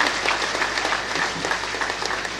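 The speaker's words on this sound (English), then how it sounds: "Please let's give him a round of applause." An audience at an accountants' institute induction ceremony applauds the Institute president, with brisk, continuous clapping from a sizable crowd throughout.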